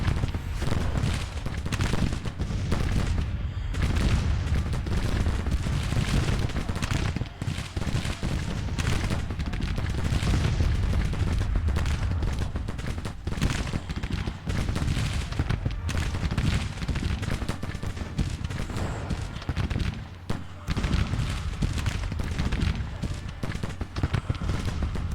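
Massed musket volleys crackle through a Grand Tactician Civil War-era battle between 20,000 and 60,000 troops, a dense, continuous roll of overlapping shots and booms with no clear pauses, loud and steady across the whole stretch.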